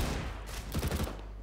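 Gunfire rings out in a multiplayer shooter video game as several quick shots fire in a short, loud cluster over a constant low rumble.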